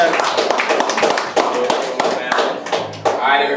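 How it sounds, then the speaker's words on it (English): A small group claps in uneven, brisk bursts, with voices mixed in among the applause. "Y'all give a round of applause."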